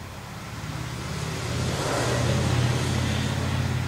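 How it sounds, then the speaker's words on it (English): A Harley motorcycle travels along a small rural road, its low engine rumble rising steadily as it approaches and passes nearby, continuous and alone without talk. "Someone just drove by on a Harley."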